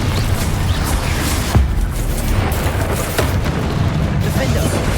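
Confringo blasting spell in the Hogwarts Legacy video game, a rumbling barrage with a sharp thumping blast near the middle and another later, under ongoing combat noise and some talking.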